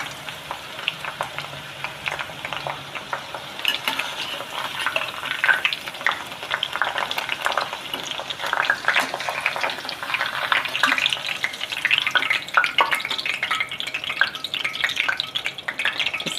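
Drumstick (moringa pod) pieces sizzle and crackle steadily in hot oil, with occasional soft stirring scrapes throughout.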